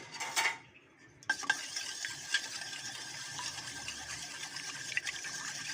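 Two eggs and a little oil being whisked in a bowl for a school lunchbox recipe, a steady close scraping and tapping of the utensil against the bowl that continues throughout without voices.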